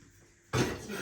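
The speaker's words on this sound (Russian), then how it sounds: "Тем временем я уберу свою посуду." Dishes are put away in a home kitchen: after a quiet stretch, a sudden clatter of crockery and cutlery rings out close by and then settles into a continued rattle.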